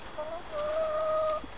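A young ex-battery hen chick makes soft, drawn-out tonal peeping calls in a backyard chicken run. The calls are faint and close, over a steady background hiss.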